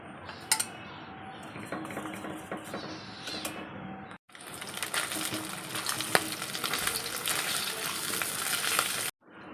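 Fish frying in a pan crackles steadily, louder in the second half, with scattered clinks of cutlery and pot knocks, briefly cut off twice; no speech.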